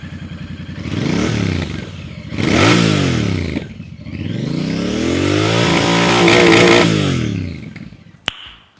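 A Royal Enfield Bear 650 motorcycle's exhaust rumbles and revs hard several times, rising and falling in loud, close throttle blips, ending with a sharp click.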